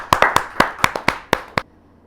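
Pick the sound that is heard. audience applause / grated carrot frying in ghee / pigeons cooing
audience applause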